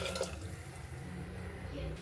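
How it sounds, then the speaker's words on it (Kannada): Water pours into a rinsed mixer grinder jar while sambar cooks in a kitchen, a faint, continuous trickling splash lasting about two seconds, with low background noise. "ಜಾರ್ ತೊಳೆದು ನೀರು ಹಾಕ್ಕೊತಾ ಇದ್ದೀನಿ"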